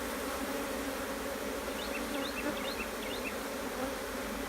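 Steady, dense buzzing of a honeybee swarm, a constant droning hum with faint individual buzzes passing close, no voices.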